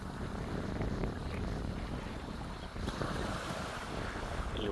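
North Sea waves wash in at low tide under a strong wind, a continuous broadband roar with wind buffeting the microphone and no voices.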